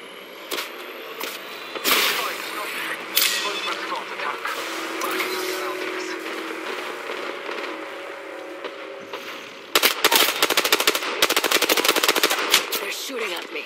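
Rapid automatic gunfire in the battle game Apex Legends, bursts of sharp repeated shots with one dense volley near the end, loud and close over game effects and a voice talking.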